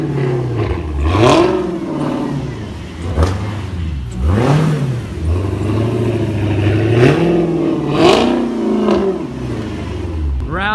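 A 2018 Camaro ZL1 V8 revs hard while drifting on a slightly wet surface, its engine note rising and falling in repeated loud surges, with tyre noise in between.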